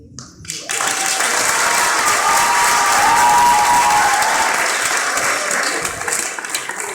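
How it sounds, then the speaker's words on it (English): An audience at an ISKCON Montreal Nrsimhadeva Appearance Day gathering applauds a stage presentation, a sudden burst of dense clapping that holds strong for several seconds, then eases off toward the end. "Okay, so once again, a big round of applause"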